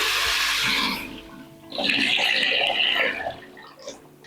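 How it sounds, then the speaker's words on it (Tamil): Water splashes and gushes steadily into a cooking pot for about a second and a half, then trickles off, with softer rushing water before it. "இந்த கஞ்சி செய்யறதுக்கு 2 லிட்டர் அளவுக்கு தண்ணி ஊத்துறேன்"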